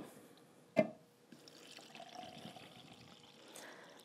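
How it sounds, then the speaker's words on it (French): Water is poured gradually into flour to make edible paint, heard as a single knock followed by a faint, soft trickle in a quiet room. "Et je viens par la suite ajouter mes 2 tasses d'eau."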